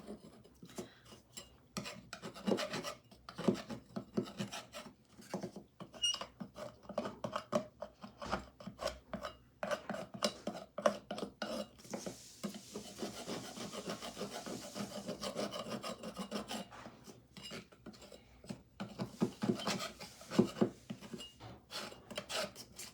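A paint scraper chipping and scraping paint off a small wooden birdhouse, close and fairly quiet, a long run of rapid rasping strokes that shift rhythm and intensity throughout.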